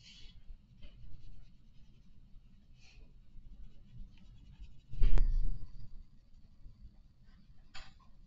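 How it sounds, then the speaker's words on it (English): Soft scratchy strokes of a 2B graphite pencil shading on paper, with faint intermittent scraping, a louder brief burst of scratching mid-way, and quiet room noise between strokes. "Now I'm going to use my 2B pencil and go through and put my lighter shades."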